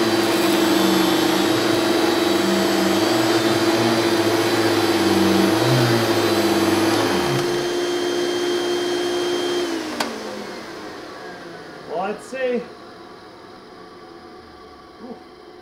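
An old vintage vacuum cleaner runs with a loud, steady motor whine and hum, then switches off and winds down slowly over several seconds, followed by a few faint clunks.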